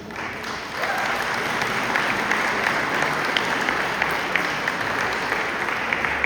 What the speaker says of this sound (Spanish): te voy a pedir que le des un fuerte aplauso a Dios por la vida de Betty